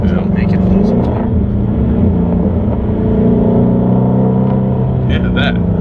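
A Ford GT350 engine rumbles steadily through gear shifts, its revs easing up and down in a low, continuous drone inside the cabin while people talk over it.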